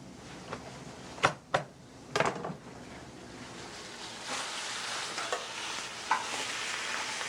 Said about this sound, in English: First we'll place meat side down into the pan and sear.